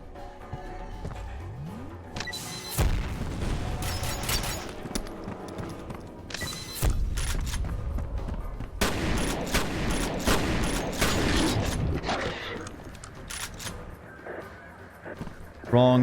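Gunfire and grenade blasts from the shooter game FEAR rattle in loud, dense bursts, with heavy booming stretches and sharp volleys, while someone talks over much of the action.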